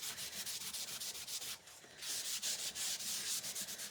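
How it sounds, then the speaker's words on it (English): Rhythmic rubbing strokes buff and smooth dried paint on a wooden door round, a close, quiet scratchy sanding sound in repeated back-and-forth passes with a brief pause midway, no talking. "I'm just kind of buffing it off, smoothing it down"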